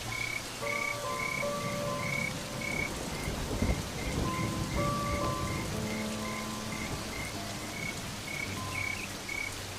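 Heavy rain pours steadily in the African wilderness, with a low rumble of thunder swelling near the middle. Frogs croak in a repeating rhythm throughout the downpour.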